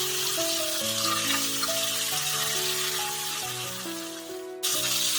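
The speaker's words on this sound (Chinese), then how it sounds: "先将2面都煎香" Chicken wings in spicy fermented tofu sauce pan-fry in oil, a steady broadband sizzle running through the whole stretch beneath melodic background music, with a brief dip near the end.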